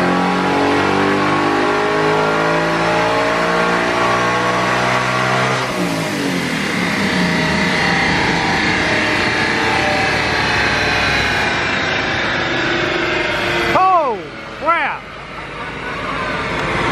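A supercharged 2021 Ford Mustang Mach 1 engine revs hard on a dyno during a second pull, a loud sustained sweep rising in pitch, then dropping to idle with a couple of quick blips near the end.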